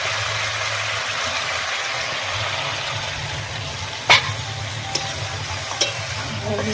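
Meat and taro frying in oil in a pan as they are stirred: a steady, close hiss of sizzling with a few sharp clicks of a utensil against the pan near the end.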